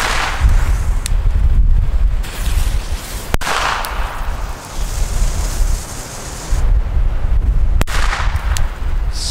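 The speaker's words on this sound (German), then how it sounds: "Wie so ein A- oder B-Böller." Several sharp, loud firecracker bangs crack out one after another over steady wind noise outdoors, each a sudden broadband blast.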